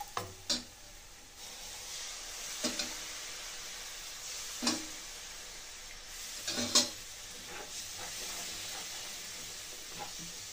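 Halwa with sugar syrup is stirred in a pan over a low flame, a faint steady sizzle and hiss broken by occasional soft scrapes and clinks of the spoon.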